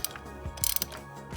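A ratchet tightens the plastic oil filter housing on a 2017 Ford F-150, making a quick run of close, soft, rapid pawl clicks, with short bursts of clicking between brief pauses.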